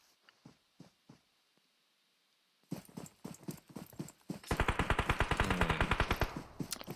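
PUBG Mobile battle royale firefight: sparse sharp shots at first, then a dense, loud stretch of rapid automatic gunfire bursts in the second half, with no talk.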